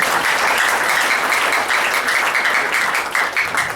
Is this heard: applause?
yes